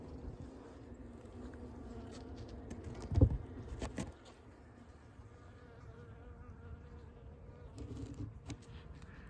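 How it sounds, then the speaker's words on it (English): Honey bees hum inside a hive colony of a honeycomb-only setup, a low continuous buzz at close range, faint and steady, with a brief knock or handling noise partway through. "there were so many bees in there"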